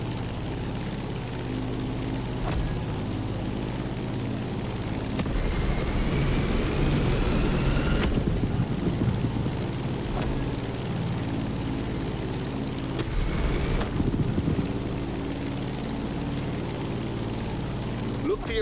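A propeller aircraft climbs in flight in the video game The Crew Motorfest. The engine drones steadily at moderate volume, with brief rushing swells along the way.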